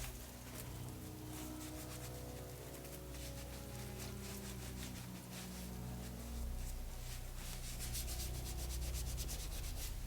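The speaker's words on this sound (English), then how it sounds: "using my sacrificial sponge. I'm going to get grime off of the handle at the very least." A sponge scrubs grime off the handle of an equine grooming brush, producing a steady, close, continuous rubbing and scraping that runs unbroken for about ten seconds with no talking.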